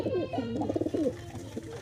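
A pigeon coos in a soft, rolling series of throaty calls, close and clear, with faint background noise and a murmur of a voice.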